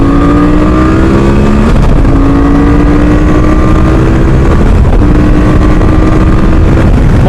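A loud QJ Motor SRT 800 motorcycle engine drones steadily while riding, pitch rising and dropping as gears shift, with heavy wind rush throughout.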